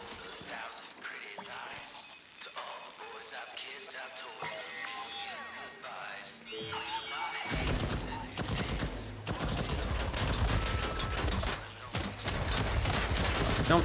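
A turret fires in the Deathloop video game, first as scattered shots and game sounds, then as a dense, rapid, loud stream of gunfire that fills the second half, with a voice talking over it.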